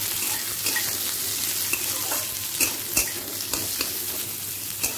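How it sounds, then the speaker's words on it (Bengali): Garlic sizzles and fries in a hot pan as onion and green chili wait to go in, with a steady crackling hiss, occasional sharper spatters and soft stirring scrapes close by, no talking. "আমি প্রথমে রসুনটা দিয়ে দিলাম, এরপর একে একে দিয়ে দেব পেঁয়াজ আর কাঁচা লঙ্কা"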